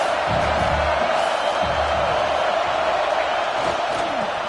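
Roaring football stadium crowd at a college game, a continuous wash of cheering and noise with occasional thumps, under a commentator's voice.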